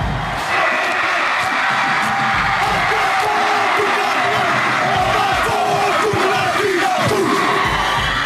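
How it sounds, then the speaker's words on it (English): Hawaii fans in an arena roar and cheer at a University of Hawaii game against Washington in 2007, a loud, sustained crowd din with whoops and yells rising above it. "as the Hawaii faithful continued to cheer"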